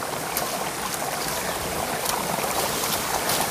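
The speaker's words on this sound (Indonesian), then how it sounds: "Air terjunnya kecil, tapi bagus, mantap, unik." Water pours steadily from the top of Curug Kirai, a small waterfall in Pandeglang, Indonesia, and runs down the river, making a loud, continuous rushing hiss with no voices.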